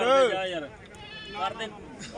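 Goats bleat at a livestock market, with one loud, close, wavering cry at the start and further bleats mixed with voices of people talking nearby.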